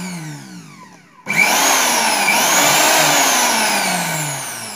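A mixer grinder motor abruptly starts and runs with a loud, high-pitched whirring grind, holding steady and then easing slightly near the end, after a quieter mechanical whine.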